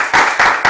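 Hands clap loudly and close in three quick bursts in a TV studio game show, with a short beat between each burst and no talk over it.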